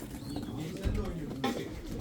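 Tumbler pigeons cooing at a pigeon auction in Sincan, Ankara, low soft coos repeating under a crowded room with people talking nearby.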